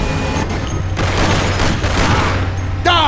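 A Mafia: The City of Lost Heaven shootout during a taxi chase, with dense overlapping gunfire and booms under a constant rumble, loud and close, and a voice breaking in near the end.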